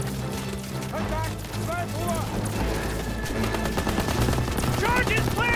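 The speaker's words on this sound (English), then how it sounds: "You gotta suppress the machine gun!" Rapid machine gun bursts and rifle shots crackle through a World War II battle in Call of Duty: WWII, continuous and loud beneath shouting soldiers' voices.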